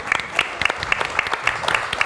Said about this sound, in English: I would like you please to just keep up a round of applause